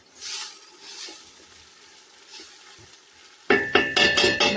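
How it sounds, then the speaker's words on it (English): Garlic and ginger hit hot oil in a pot for Cape Town breyani, bursting into a loud sizzle after a few seconds of quiet low cooking, with clinks of a utensil against the pot. "Now I think I will add my garlic and ginger"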